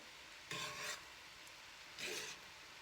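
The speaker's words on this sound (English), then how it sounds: "You stir it again. This will be the final stir." Black-eyed peas and cabbage get stirred in a pot: two short scraping, rustling bursts of a spoon working through the wet cabbage, separated by a quiet pause, with no talking.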